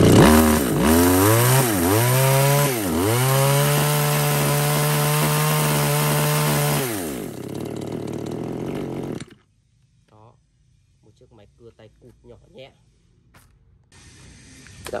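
A Japanese chainsaw with a roughly 30 cc engine revs, its two-stroke whine rising and dipping several times before settling into a steady drone, then winds down and stops, leaving faint clicks and rustles.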